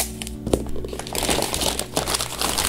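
Packing paper is crumpled and scrunched by hand while wrapping vintage Dr Martens shoes, giving loud, close crinkling bursts with a sharp crackle early on, then denser rustling that continues to the end.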